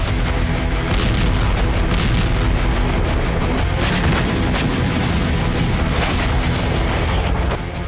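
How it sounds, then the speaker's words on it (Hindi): Heavy, dense booming explosions after attacks in Rostov, a loud continuous barrage of thuds and rumbles filling the whole stretch with no speech. "उस्त-लुगा से पहले यूक्रेन ने रोस्तोव में बड़े हमले किए, जिसके बाद जबरदस्त धमाके देखे गए।"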